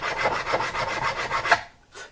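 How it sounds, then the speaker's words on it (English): A file rasps steadily across the frets of a Martin HD-28 acoustic guitar in close, rhythmic back-and-forth strokes. The scraping stops after about a second and a half, and one fainter stroke follows. "I didn't have to do much filing on these"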